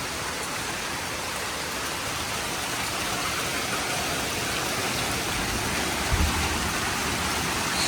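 Heavy hailstorm flooding a veranda during a power cut, heard as a steady, close, dense hiss of pelting ice and water, with one brief low thump late on.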